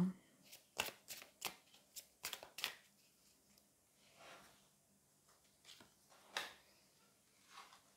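Oracle and tarot cards being shuffled by hand give a series of quick, crisp riffling bursts, clustered early and then sparser, close and quiet.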